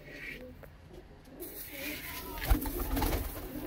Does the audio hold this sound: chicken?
no